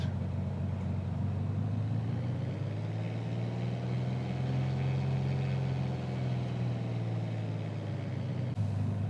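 Piper Archer II light aircraft engine in Microsoft Flight Simulator 2020, a steady low droning hum while taxiing, continuous and fairly loud with a slight rise and fall in pitch and no talking.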